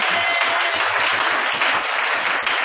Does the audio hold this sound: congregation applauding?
yes